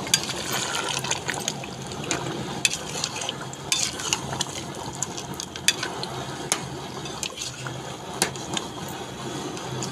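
Potatoes and green chillies frying in a pan in a Punjabi village kitchen, a steady close sizzle with scattered spits and stirring scrapes running without a break and no speech.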